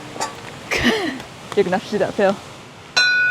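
A bear bell hanging along the Nakasendo trail between Magome and Tsumago in Japan rings near the end with a short, bright metallic chime, after people talk over quiet outdoor ambience.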